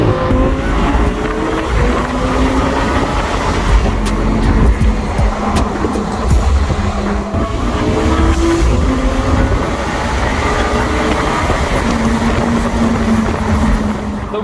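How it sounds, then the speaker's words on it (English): An Audi R8 V10 Spyder heard from inside, its engine wailing loudly and climbing in pitch through a run of quick, seamless gear changes, with repeated rising sweeps that drop back at each shift. "You can hear that V10 screaming in the back."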